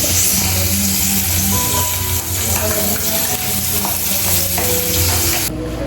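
Fish fries loudly in a pan at home, giving a dense, continuous sizzle and crackle close up, with occasional stirring taps and no talking.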